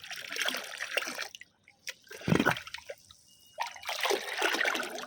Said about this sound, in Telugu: మనం ఈ వాటర్ని ఇందులో యాడ్ చేసేసుకుందాము